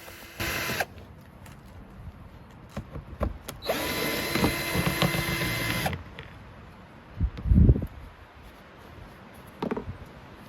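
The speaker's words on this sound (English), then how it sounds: "all I'll be using is a drill with a Torx bit" A power drill with a Torx bit whirs in two short bursts, one brief and one longer, removing license plate screws on a Volvo, among quiet handling clatter and a thump.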